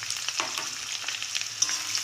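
Chopped onions, two large ones, fry in a pan with peanuts and dried red chillies, giving a steady close sizzle with faint stirring scrapes throughout, no voices.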